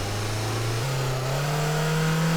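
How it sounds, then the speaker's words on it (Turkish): A Tofaş car engine in the video game Teardown holds a steady, loud drone with turbo engaged, its pitch stepping upward as it revs and accelerates, close and continuous without talk. "Hadi bak turboya da bastım gidiyoruz hadi."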